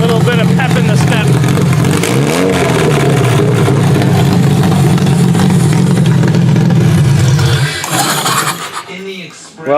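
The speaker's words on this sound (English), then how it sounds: "I put it into high idle and she runs good now." A demolition derby car engine holds a steady, loud high idle for about eight seconds, with a brief rev change near the start. It then drops off sharply and near the end gives way to a faint voice.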